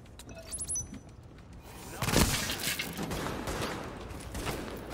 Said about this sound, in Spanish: Pues un disparo.